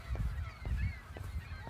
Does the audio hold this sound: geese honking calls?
yes